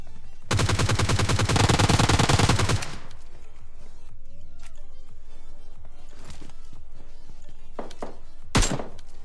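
Gunfire in the video game PUBG Lite: a loud, rapid automatic burst lasts over two seconds, then quieter clicks and movement sounds, and finally a single sharp shot near the end.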